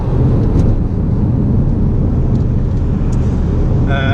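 A 2017 Ford Focus RS in race mode drives along, its engine and road rumble forming a loud, steady low drone with no pauses.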